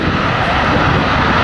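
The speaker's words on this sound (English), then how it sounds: "the pilots go to full power on their Rolls-Royce outdoor engines" Red Arrows jets powered by Rolls-Royce engines roar at full power before takeoff, a loud, close, unbroken broadband blast with no voices.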